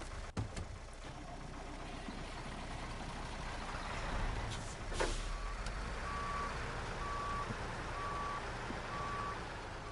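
Truck in the SnowRunner video game reverses with a rumbling engine, then a steady series of five evenly spaced backup beeps rings out over the motor.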